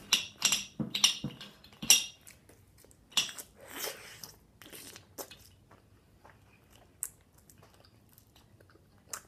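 Sour Crybaby gum is chewed up close, with a burst of wet crunching and smacking early on that fades to sparse, faint chews and squishes over near silence.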